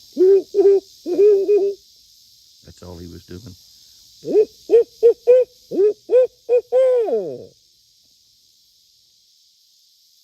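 A voice imitates an owl, giving a run of short hoots, then a longer series of rhythmic hoots ending in a drawn-out falling call, over steady insect buzz.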